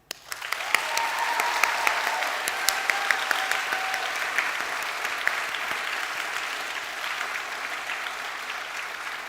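A school hall audience at an arts awards ceremony breaks into applause, rising quickly to a loud, steady roar of many hands clapping that holds for several seconds without speech.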